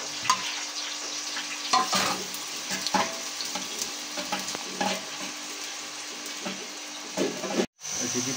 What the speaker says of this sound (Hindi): घी गर्म होने पे मैंने इसमें 2 अदद प्याज मैंने डाल दिए हैं।